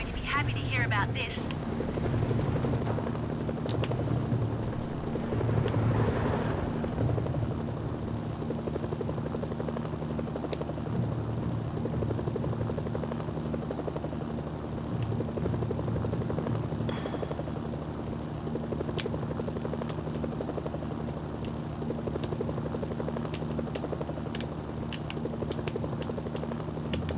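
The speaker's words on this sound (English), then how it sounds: "So much for my pristine helicopter." Helicopter from the video game Mercenaries: Playground of Destruction, a steady rotor drone with a low rhythmic thrum running throughout, mixed with game sounds and intermittent speech over it.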